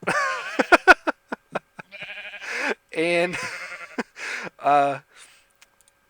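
Minecraft sheep bleat several times in short, wavering cries, mixed in with someone talking over the game.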